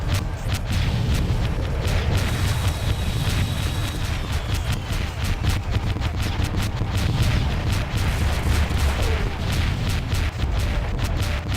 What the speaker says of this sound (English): that flak turret is just insane